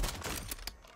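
Rapid bursts of video game gunfire crackle in a short, dense volley, fairly faint and with no talking.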